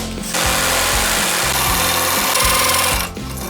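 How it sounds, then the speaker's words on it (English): A tube notcher cuts a notch into the end of a steel tube for a truck frame, a loud, steady grinding whine with repeated low thumps, holding for about three seconds before it drops off. "I'm setting up the notcher to shape this end of the tube so it'll fit against the frame really nice."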